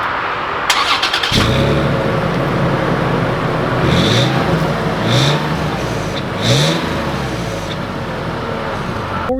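A 2020 Toyota 4Runner Venture engine cranks briefly and fires up, then settles into a steady idle with a few light revs rising and falling, close and fairly loud.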